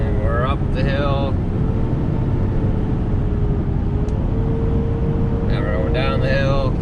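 A 2021 Ford F450 Platinum pickup towing a Diamond C FMAX 216 trailer climbs a hill in a steady, loud low engine and road drone heard from inside the cab, with someone talking briefly at the start and end.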